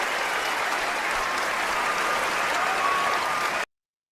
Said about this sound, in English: They all deserve some applause.